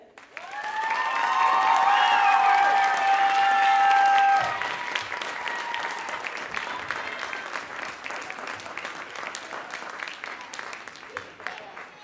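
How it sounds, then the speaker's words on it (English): Audience applauding a theatre cast after a school production of The Wizard of Oz, a loud burst of clapping from a full room that peaks early and then settles into steady, slightly thinner applause. "So let's give a big round of applause for all of them again."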